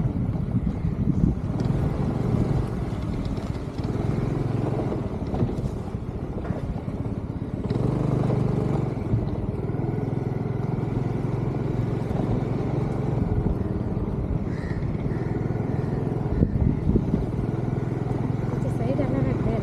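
A scooter ridden by a first-time learner gives a steady, low engine drone with some wind rumble, running continuously under near, constant conversation.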